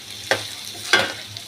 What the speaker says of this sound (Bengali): বেশ করে সুন্দর করে চালটা ভাজা ভাজা করবো আর কি